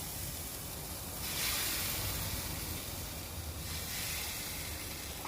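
Marinated meat is laid onto a brand-new barbecue grill at home, giving a steady broad sizzling hiss that swells louder twice, with no talking.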